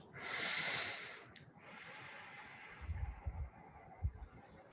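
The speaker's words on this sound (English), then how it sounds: "Breathing into your heart space and expanding it." Deep breaths during a guided heart-space meditation: a long airy inhale, then a softer exhale with low snorting bursts, close and intimate with no speech.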